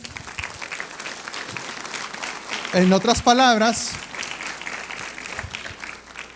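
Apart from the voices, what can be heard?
church congregation applauding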